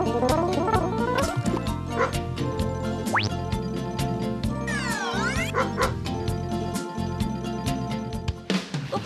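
A Basset Hound, a low-set French hunting breed, gives repeated short barks and yips at close range, a busy rhythmic run of sharp calls over a bright tonal backdrop.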